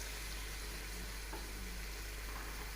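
Green peas are tipped into a cooking tomato masala for matar chicken, producing a soft, continuous frying hiss with light stirring, heard quietly and without voices.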